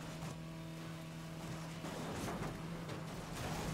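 Marussia B2 sports car in Need for Speed Most Wanted (2012) during a race, a steady engine drone with a sustained tone that shifts slightly as it accelerates, fairly quiet and with no voices.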